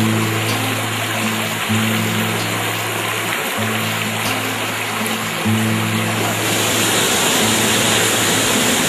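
Quebrada Chembe, a mountain stream near the Tolima village of El Salado in Ibagué, flows steadily in a continuous broadband rush with no talk, while a low droning tone of music sits beneath the water.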